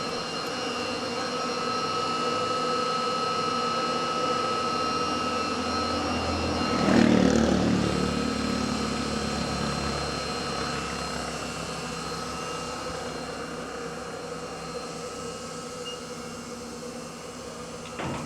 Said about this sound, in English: So you can hear the pump running.